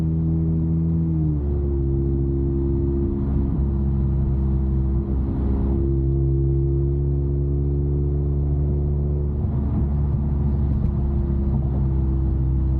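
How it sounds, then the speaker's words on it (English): A Toyota Camry with a catless exhaust: steady, deep engine drone rumbles loud and close, with low exhaust tones shifting slightly as it idles and creeps along in rush-hour traffic in New York City. "you guys know how loud the car is"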